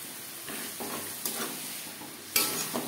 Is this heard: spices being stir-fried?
yes